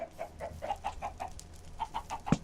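Chickens cluck repeatedly in the Minecraft video game, a soft run of short rhythmic clucks with a brief gap before more clucking and a low thump near the end.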